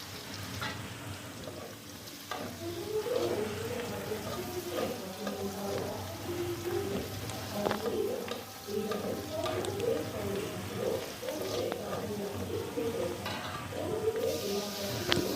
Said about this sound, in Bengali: পেঁয়াজ রসুন কাঁচামরিচ দিয়ে একটু নাড়াচাড়া করে নিতে হবে